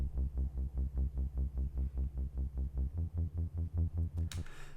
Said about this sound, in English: and then we have this like synth bass, which is a little bit higher